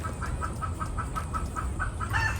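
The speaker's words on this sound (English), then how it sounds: "The neighbors behind this house have a chicken coop." Chickens in a neighbor's backyard coop cluck in a quick, regular series of short calls, moderately distant and soft over a low background hum, with a sharper squawk at the end.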